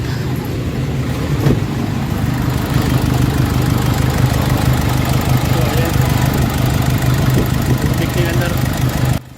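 A Nissan Navara engine with low power and fuel knocking idles steadily with a low, even rumble throughout, loud and close, then stops abruptly at the end.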